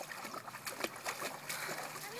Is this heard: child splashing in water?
yes